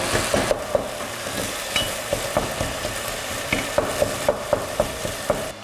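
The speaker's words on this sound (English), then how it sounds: "we're just going to break our keema into small particles by heating the keema" Minced keema meat sizzles steadily in a hot pan while a utensil stirs and breaks it up, making a series of sharp scraping clicks against the pan over the continuous frying hiss.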